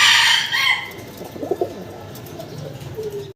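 Fancy pigeons coo in a short, close burst after a loud opening rustle, followed by a few softer coos, with no speech.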